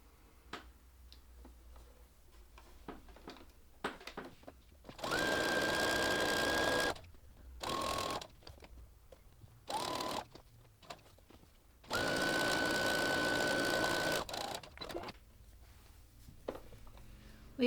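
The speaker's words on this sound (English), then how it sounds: "Let's go ahead and sew that now." A sewing machine stitches fabric strips in two long bursts, a close, steady whirring rattle separated by quiet handling noise and faint clicks.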